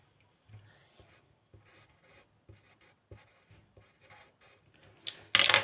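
A name is handwritten with a pen, heard as soft, close scratches that repeat in an even rhythm of short strokes, followed by a brief louder rustle at the end.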